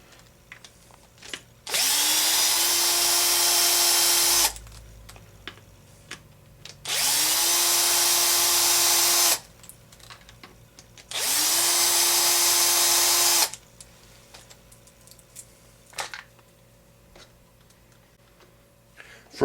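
Power drill backing out the four screws that hold a Turtle Racing gear plate, with three separate steady whirring runs of about two to three seconds each, close and loud, split by quiet pauses and small handling clicks.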